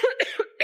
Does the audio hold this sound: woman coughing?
yes